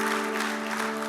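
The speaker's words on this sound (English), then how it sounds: "So, we're about to get a clap?" Church congregation clapping, a dense steady wash of many hands applauding together, with a sustained musical tone running underneath throughout.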